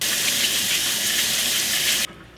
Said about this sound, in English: I always wash my potatoes before I peel them just because the potatoes are dirty